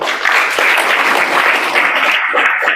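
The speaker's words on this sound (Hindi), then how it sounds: "जोरदार ताली बजा दो" Short burst of enthusiastic audience clapping from a gathering of students, dense and steady many-handed applause close and loud throughout.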